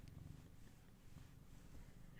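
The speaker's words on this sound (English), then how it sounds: "perhaps you can hear her purring" A kitten purring close by, a soft, low, continuous rumble at a faint level with no other sound over it.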